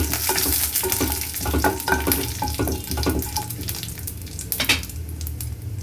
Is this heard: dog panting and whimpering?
no